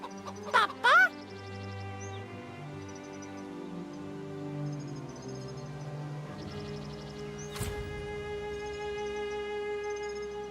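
A rooster in the Divinity Original Sin 2 video game clucks in a few short, loud bursts near the start, then game music and ambience carry on steadily.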